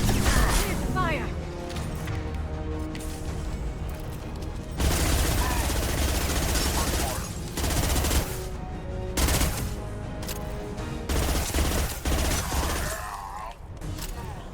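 Sustained squad gunfire in Mass Effect 2 on Insanity difficulty, rapid overlapping bursts and crashes that continue loudly across the whole stretch, with brief pauses and voices mixed in.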